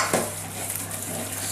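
Eggs are beaten into green tea brownie batter, with a close, busy whisking or stirring sound, a light clink against the bowl near the start and steady scraping throughout, and no voices.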